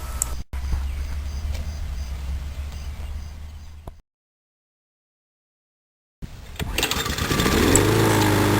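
A Briggs & Stratton small engine being worked on after a no-start fault, a steady engine drone that cuts out to silence, then restarts and runs with a rising hum.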